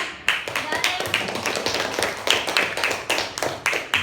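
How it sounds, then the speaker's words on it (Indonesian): Audience clapping for everyone in a classroom lesson, a dense patter of hands with sharp accents, fairly close and steady throughout. "Sekali lagi, tepuk tangan untuk semua."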